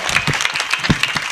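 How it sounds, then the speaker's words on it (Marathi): A crowd claps along during a devotional kirtan, with brisk, close hand claps in a quick, slightly irregular rhythm and no speech. "टाळी वाजवायला."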